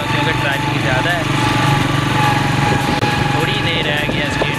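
Small motorcycle engine droning steadily at close range while riding through heavy traffic on the way to a stadium, with a continuous buzzing hum and surrounding traffic noise throughout.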